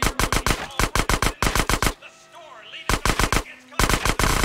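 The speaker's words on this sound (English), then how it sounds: "AK is even better than the pistol, though. Just use it as like a rifle." Bursts of AK assault rifle fire in GTA San Andreas, loud and close, coming in rapid strings of shots with a brief pause in the middle, with nobody talking.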